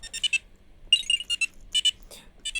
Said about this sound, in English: the teleport noise was using the noise wave with the sound effect thing